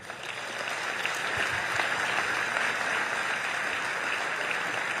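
Steady, sustained applause fills a church hall at a missions symposium, a dense wash of many hands clapping together for the whole stretch with no voices breaking through.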